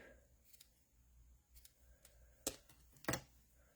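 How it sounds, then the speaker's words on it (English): Scissors snip off ends in a quiet craft setting, two crisp close cuts near the end after some faint handling rustles. "Let's cut some ends here."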